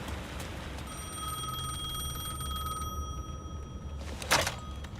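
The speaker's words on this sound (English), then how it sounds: "The phone was ringing again" Telephone ringing in Alan Wake 2, a bright electronic bell tone sustained for a couple of seconds, fairly clear over a low ambient hum, followed later by a brief sharp clattering noise.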